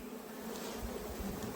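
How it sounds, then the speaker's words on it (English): Honeybees buzz steadily in a hive being relocated, a close, continuous, dense hum with no talking. "That's quite a few bees up in there."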